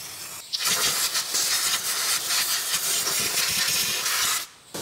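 Aerosol brake cleaner sprays onto an oil-leaking Honda Odyssey engine in a loud, steady hiss that holds for about four seconds, with a short pause near the start and an abrupt stop at the end.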